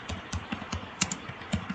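A computer keyboard being typed on to enter a table title in a document: a string of soft, evenly spaced key clicks, close and fairly quiet, with no speech.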